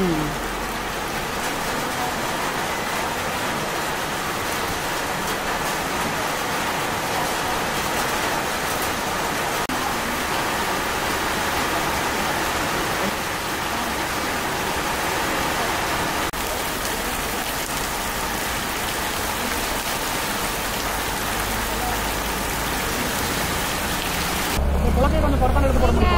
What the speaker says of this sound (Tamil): பாருங்க மழை வந்துட்டு இருக்கு.